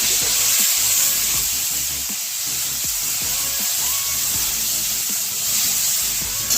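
Tomatoes dropped into hot oil for a Bengali vegetable dal, a loud, close, steady hissing sizzle with faint stirring taps, no talking.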